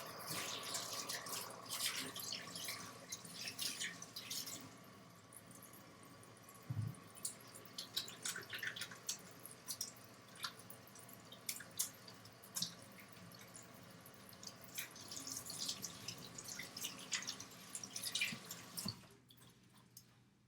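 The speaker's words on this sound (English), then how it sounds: "So the first thing you have to do before you bake is wash your hands." Hands being washed under a running sink tap, a steady stream of water with scattered drips and splashes continuing for most of the stretch before cutting off near the end.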